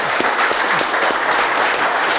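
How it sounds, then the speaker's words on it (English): Audience applause fills the whole stretch, a dense steady clatter of many hands clapping at close range with no talk over it. "Round of applause for them,"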